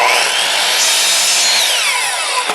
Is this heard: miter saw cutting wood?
yes